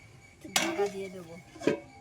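Two quick metallic clanks of a lid set onto a pot of crab and Malabar spinach curry, close and fairly faint, with a brief ringing after the first.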